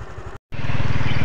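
A motorcycle pushing through floodwater, a loud close engine drone with churning rumble, briefly cut off by a short gap before resuming at higher intensity.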